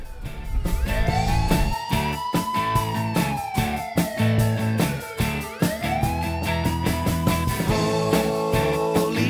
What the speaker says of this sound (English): sirens are so loud.